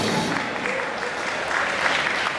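Light applause from a small audience in Ecuador greeting wrestling personality Drake Maverick, a steady patter of clapping with no clear peaks, moderately close.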